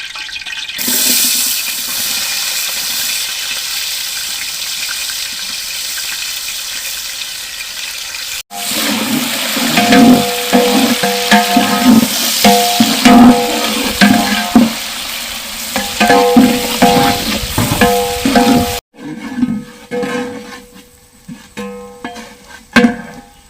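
Onions with cardamom and cloves fry in a large pot for a 10 kg village-style Ambur chicken biryani. A loud, continuous sizzle carries heavy scraping and stirring, breaks briefly, resumes strongly and then drops off sharply near the end.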